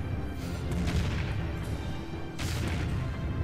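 Battleship gunfire in Empire Earth during the Iwo Jima invasion: two heavy booming blasts with rumbling tails, the second arriving a couple of seconds after the first, loud and alone.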